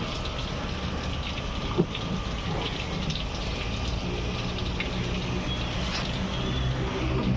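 Water gushes and splashes steadily while a car is washed and scrubbed on a cloudy day, a continuous broadband rush with a faint knock near the start and no talking.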